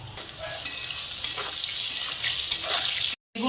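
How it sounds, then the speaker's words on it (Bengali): Eggplant fries in hot mustard oil in a wok, a loud, close, continuous crackling sizzle with small pops that cuts out briefly near the end. "এবার তেলের মধ্যে বেগুনগুলো প্রথমে ভাজতে দিয়ে দিলাম"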